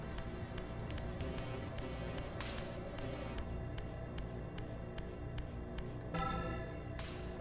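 A bell struck in the video game Legacy of Kain: Soul Reaver hums with a sustained metallic resonance that lingers steadily, with a few brighter strikes or chimes breaking through near the start and end.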